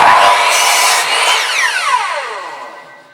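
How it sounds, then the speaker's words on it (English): A powerful power saw with a thick blade cuts through wood: a loud, high whine that sweeps down in pitch as the blade bites and slows, then fades out near the end, with no talking. "So we're going to lose a little bit as it's quite a powerful saw, quite a thick blade."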